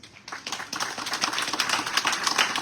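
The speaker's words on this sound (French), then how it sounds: "Je vous invite donc à applaudir chaleureusement l'installation de la gouvernance." Audience at a maternal and child hospital inauguration in Terrier-Rouge clapping for the installation of its governance, a loose patter of individual claps starting after a brief pause and building to a steady, moderately close spread.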